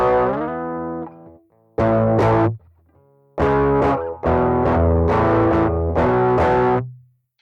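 Distorted electric guitar plays a riff with doubled chords: a few loud strummed chord blocks separated by short gaps, the last one ringing out.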